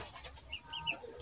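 Young chicks in a poultry rearing house give soft, repeated high chirps and clucks, scattered through the clip over a steady low background hum.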